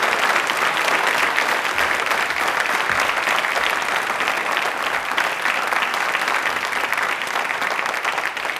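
A studio audience at a Hindi fortnight programme by DD Rajasthan breaks into sustained, even applause as Dr. Sanjeev Sharma joins the stage, a dense wash of clapping lasting the whole stretch.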